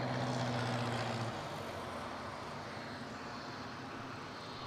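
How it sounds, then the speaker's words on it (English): A light aircraft coming in to land at Newcastle International Airport, a steady broad engine roar heard from a distance with a low droning hum fading early. "there's a light aircraft coming in first"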